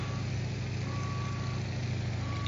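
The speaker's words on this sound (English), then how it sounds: "it's beeping at me because I'm horribly low." Low-altitude warning beeps in the IL-2 flight simulator game, a faint, steady tone repeating over a constant loud engine drone inside the cockpit, with no talking.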